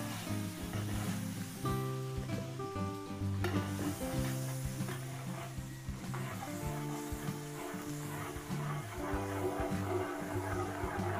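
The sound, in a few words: garlic sizzling in margarine in a pan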